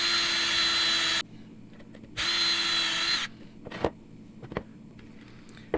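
A power drill whines through aluminum in two loud, steady bursts with a short pause between, followed by a few sharp clicks and clatters.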